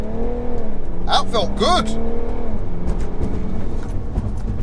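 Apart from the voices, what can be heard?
BMW 335d launching with brake boost, accelerating hard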